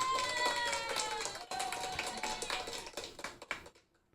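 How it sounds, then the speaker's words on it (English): Applause sound effect played in Ecamm, a brisk burst of many hands clapping with a few cheering tones. It starts full and tapers off, thinning into scattered claps before fading to silence. "Just applause. That's all we need."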